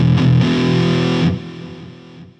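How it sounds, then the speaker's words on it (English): A heavily distorted electric guitar chord, from a Gibson Les Paul or an Oscar Schmidt, rings out loud and gritty, then drops in volume and decays over about two seconds. "let me throw on some distortion and we'll hear how it sounds"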